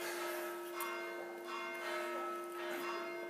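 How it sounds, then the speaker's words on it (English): Church bells ring with a sustained resonant tone and several fainter struck peals layered over it, moderately distant and heard alone. "The bells!"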